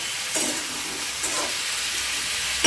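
Snake gourd frying with turmeric in oil, a brief steady sizzle with a couple of soft stirring bursts, close by and alone.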